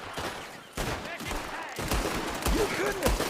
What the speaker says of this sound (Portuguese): Ah, não, é no tiro.